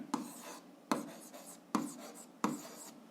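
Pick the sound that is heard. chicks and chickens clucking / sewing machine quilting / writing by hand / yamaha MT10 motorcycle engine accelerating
writing by hand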